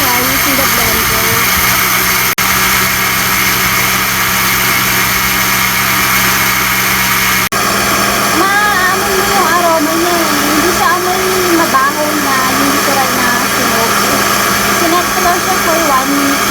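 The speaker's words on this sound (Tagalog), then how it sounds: "Ngayon, diniduro ko na siya using the blender." A blender roars loudly and continuously throughout, grinding toasted rice for rice coffee, its motor pitch wavering slightly, with a brief click partway through.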